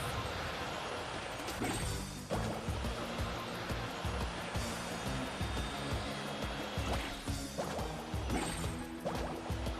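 Surfing across ocean waves in the video game Genshin Impact: continuous loud rushing water and spray, with recurring surges of splashing over a dense roar, no talk.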